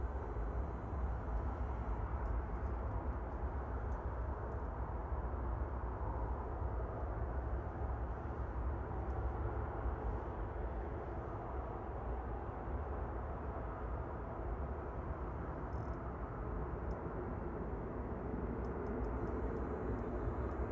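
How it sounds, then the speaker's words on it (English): A Qatar Airways Boeing 777 from Doha approaches to land at Manchester Airport, heard as a faint, steady, distant engine roar that holds level throughout with no talk over it. "just turning onto the glide slope now is the Qatar from Doha, the 777"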